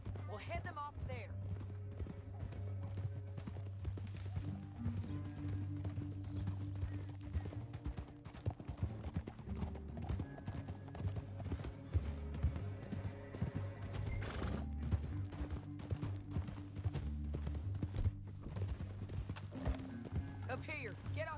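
Horses gallop in Red Dead Redemption 2, a rapid clip-clop of hooves with occasional whinnies over a low rumble, as characters speak throughout.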